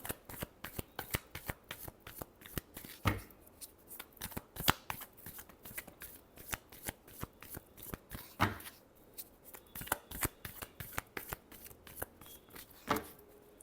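Tarot cards shuffled by hand in a quiet room, a long run of quick, crisp riffling flicks at an uneven rhythm, close by and fairly soft, with no talking.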